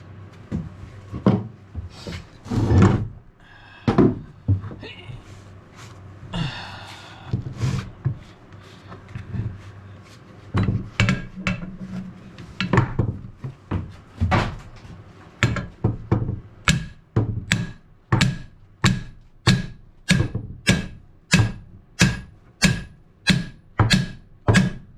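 A hammer pounds on a stuck bolt aboard a boat: a few irregular knocks at first, then a steady run of about a dozen and a half evenly spaced, sharp, close metallic blows. No one talks.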